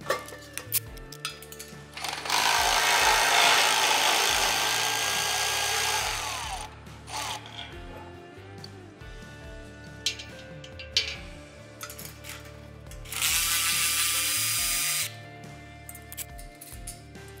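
A power ratchet spins bolts loose on the transport bars of an Easy Flow Elite adjustable alley in two loud bursts of whirring several seconds long, with quieter clanks and ticks between them.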